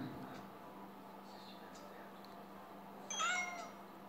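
A cartoon cat in the Kitty Keeper mobile cat-collecting game lets out a single bright, short meow over a soft, steady game background hum.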